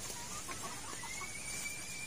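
Chickens in a rebuilt coop give faint scattered clucks, thin and somewhat distant, beneath a steady hiss of background noise that sounds like falling rain.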